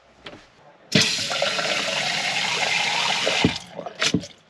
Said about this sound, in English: So now we're going to turn the water on, see how it works.